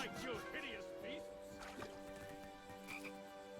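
Frogs croaking in the King's Quest video game, a rhythmic run of low croaks under a steady musical game soundtrack.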